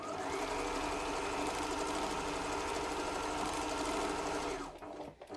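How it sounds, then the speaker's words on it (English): A sewing machine runs steadily while stitching a fabric face mask headband, a continuous loud motor whir with rapid needle clatter for about four and a half seconds before it stops abruptly, no talking. "and I sew again."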